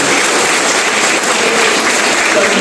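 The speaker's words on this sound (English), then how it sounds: "Can we give a big round of applause to these people?" Loud, dense applause from a large audience at a college Save Soil event, with continuous clapping filling the whole moment at close range.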